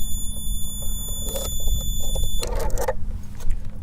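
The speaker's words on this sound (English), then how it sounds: "if anybody tries to tamper with it, the alarm is activated" A steady, piercing electronic alarm tone from a cluster lock's tamper alarm sounds for a couple of seconds, then cuts out amid a burst of rattling and clatter over a low rumble.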